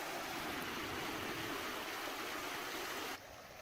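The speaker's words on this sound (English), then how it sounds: "I'm going to set up a little fire by the creek here so I can listen to the water run" Creek water runs steadily and close by at a bush campsite beside a roaring creek, a dense continuous rush with no speech over it, dropping slightly quieter near the end.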